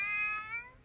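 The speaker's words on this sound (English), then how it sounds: "this cat needs to get out the way" A house cat gives a single clear, drawn-out meow close by, rising then trailing off in under a second.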